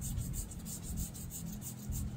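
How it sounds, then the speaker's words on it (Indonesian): Fine sandpaper rubbing over the frets of an Ibanez RG 350 DXZ guitar during fret levelling, a close, steady back-and-forth scratchy rasp in quick even strokes, with no talk. "Oke, sudah selesai diamplas."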